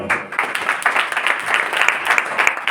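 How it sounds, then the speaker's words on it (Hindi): A congregation claps at a sermon, a close, busy burst of hand claps that runs steadily without a break and has no talk over it. "ताली बजाओ।"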